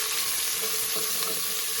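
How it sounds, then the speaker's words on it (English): Onions, carrots and celery sizzle in a soup pot as a steady, dense hiss that stays even throughout, close and fairly loud. "Okay, so we're just going to put in our onions, carrots,"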